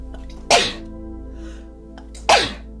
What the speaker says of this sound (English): and sneeze.